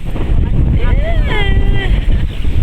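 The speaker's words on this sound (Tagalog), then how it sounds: "Ang lakas ng hangin." Strong wind buffets the open outdoors with a continuous low rumble throughout, while a voice calls out excitedly over it.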